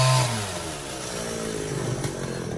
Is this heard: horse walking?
no